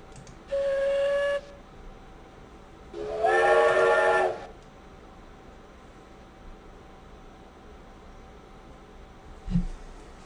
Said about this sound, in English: It's like I'm going back on the choo-choo train.